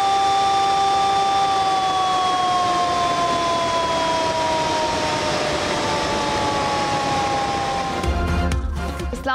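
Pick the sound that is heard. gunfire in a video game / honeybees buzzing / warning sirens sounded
warning sirens sounded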